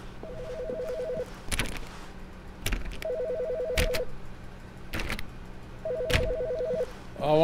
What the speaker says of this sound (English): I want to answer this phone.